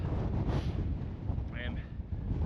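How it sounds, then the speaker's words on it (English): Strong winter wind at a remote Scottish loch roars and buffets the microphone in heavy, rumbling gusts throughout, with a faint voice briefly audible under it. "The wind is still pretty fucking mad."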